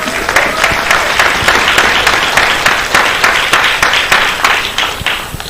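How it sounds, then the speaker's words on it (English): Loud, sustained applause from an audience of young competitors and their coaches at a ceremony, dense steady clapping with no voices over it. "give yourself all a round of applause for actually getting here"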